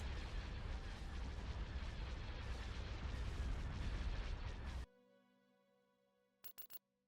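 A capital ship's main cannons fire in an Empire at War Expanded space battle as the Republic faction, a long roaring barrage of heavy blasts that cuts off into a ringing hum, then a few short sharp shots.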